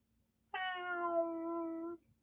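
A single drawn-out cat meow, clear and fairly close, rising then holding steady for about a second and a half before stopping, with near silence around it.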